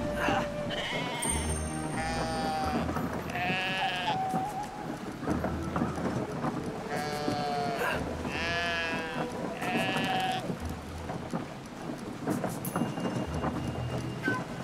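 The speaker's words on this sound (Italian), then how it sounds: "Letteralmente sollevando le pecore." Sheep bleat repeatedly in Brothers: A Tale of Two Sons, a string of quavering bleats at moderate distance over a steady ambient game backdrop, with clopping hooves mixed in.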